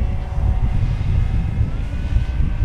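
An FMS Corsair 1700mm V3 RC model airplane on 8s power takes off, its electric motor and propeller giving a steady, close, low droning whir without any voices.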